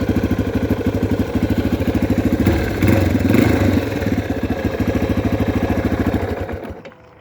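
A 2018 Yamaha TTR230 dirt bike engine runs close by with a steady, rapid chugging idle, briefly revving mid-way before cutting off at the end.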